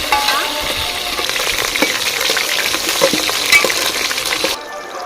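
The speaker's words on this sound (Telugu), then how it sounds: "పచ్చిమిరకాయలు ఉల్లిపాయలు బాగా వేగిన తర్వాత" Onions, green chillies and curry leaves fry in a pan with a loud, dense sizzle and crackle, broken by scraping stirs, until the sound cuts off abruptly just before the end.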